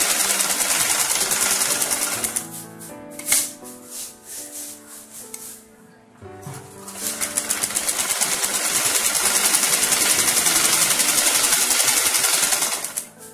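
A sewing machine runs in fast, steady bursts while joining two step-frock pieces with frills attached, a loud close whirring that pauses briefly near the middle, then resumes continuously.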